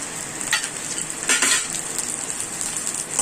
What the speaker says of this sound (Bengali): এবার একটু তেল দিলাম, কিশমিশ দিলাম, এবারে কাজুটা দিলাম